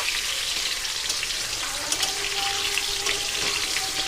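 Continuous sizzle of pointed gourd pieces frying in oil, an even crackling hiss with a few faint clinks, close and steady throughout.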